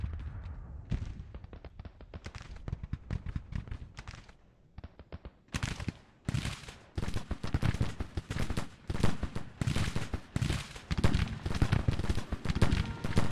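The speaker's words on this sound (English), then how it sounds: "I'm still shooting his cannons" Civil War artillery booms across a battlefield in Grand Tactician: The Civil War. Scattered cannon shots and crackling volleys ease into a brief lull, then return as a dense, rapid barrage of overlapping blasts.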